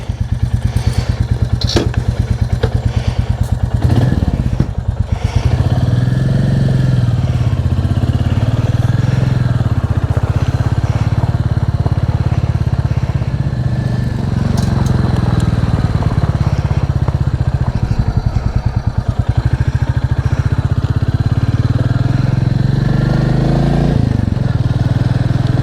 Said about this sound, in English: there's nothing better than riding the motorcycle